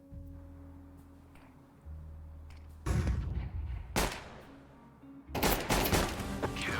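Loud bursts of AK rifle fire in a horror video game crack out in three separate volleys over a low humming background, each burst harsh and close.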